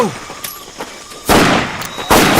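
Gunfire in Medal of Honor Pacific Assault, with faint distant pops early on, then two loud, close bursts of heavy shooting near the end, amid battlefield noise.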